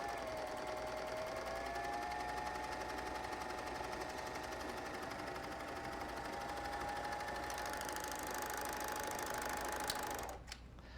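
A serger with a cutter runs fast through stretchy Lycra in a steady, close mechanical whir with a faint whine, then stops abruptly near the end.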